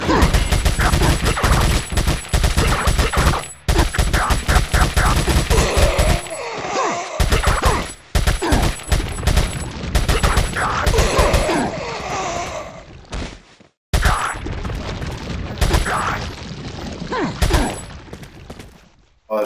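Enemies in Resident Evil 4 unleash loud, rapid bursts of gunfire, volleys of shots with smashing impacts, broken by brief silent gaps and resuming near and harsh.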